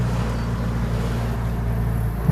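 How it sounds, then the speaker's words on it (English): Steady low rumble of school drop-off traffic at Peachester, Queensland, with cars idling and moving past in a continuous drone, fairly loud and close, with no voices. "This is just the traffic to drop the kids off."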